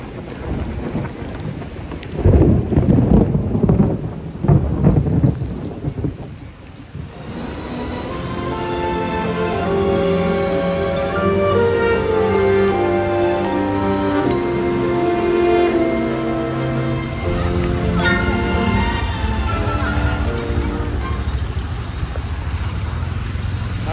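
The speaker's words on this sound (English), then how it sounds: "this is the second day in a row that I've been caught in a storm" Thunder rumbles loudly in heavy bursts, then steady rain pours down in Sri Lanka, pattering on surfaces with a continuous hiss for the rest of the clip.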